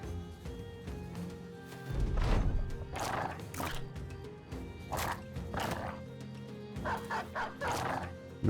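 Dogs bark and yelp in the Battle Brothers video game, several sharp barks spaced through a busy battle soundscape with horse whinnies and clattering combat noise beneath.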